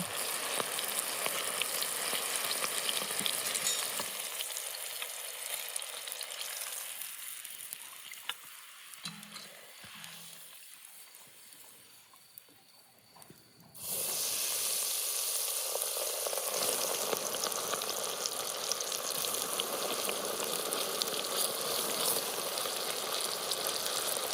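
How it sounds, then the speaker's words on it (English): Breaded steaks fry in hot oil with a dense, steady sizzle that fades briefly midway, then returns loud and bubbling, close up with no talking. "A few minutes in boiling oil."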